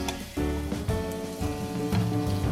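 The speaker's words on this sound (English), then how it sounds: "Put the cakes into the pan. Fry both sides carefully." Purple sweet potato cakes frying in cooking oil in a pan give a steady, close crackling sizzle, with soft bumps and scrapes as they are moved, alone and without talk.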